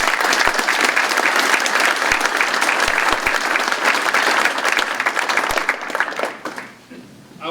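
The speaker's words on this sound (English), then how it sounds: "Round of applause to them" Loud, sustained applause from a crowd at a Veterans Day ceremony, dense clapping with occasional sharper hits, tapering off and fading out near the end.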